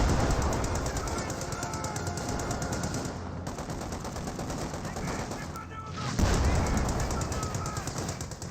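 A machine gun fires in Company of Heroes 2, loud continuous rattling bursts layered over distant battlefield gunfire, with a brief lull before the shooting resumes and a voice faintly underneath.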